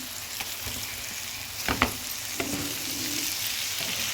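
Boiled eggs dropped into a hot frying pan for an egg and capsicum fry give a steady sizzle of oil, broken by a couple of sharp clacks as they land and are stirred, then the frying continues evenly.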